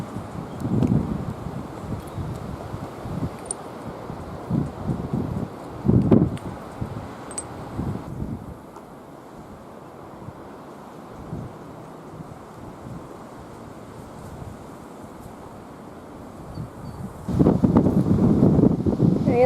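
Windstorm gusts buffet the microphone outdoors, roaring in bursts that rise and fade, with rustling between them and a strong blast toward the end.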